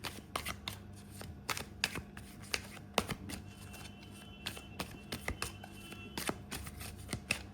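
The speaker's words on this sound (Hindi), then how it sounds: "अब मैं एक और कार्ड लूँगी।" Tarot cards being shuffled and drawn by hand, giving a steady run of crisp riffling flicks and soft slaps, close and fairly quiet, with no talking.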